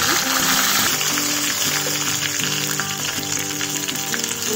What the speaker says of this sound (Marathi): आता ह्यामध्ये मी जिरं घालून घेते 1 चमचा.